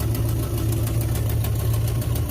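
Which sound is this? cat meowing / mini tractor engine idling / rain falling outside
mini tractor engine idling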